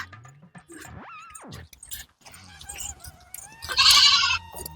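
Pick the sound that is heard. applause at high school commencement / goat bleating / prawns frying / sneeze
goat bleating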